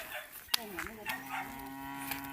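A cow lets out a long, low moo nearby, with a wavering, drawn-out tone over faint outdoor background noise.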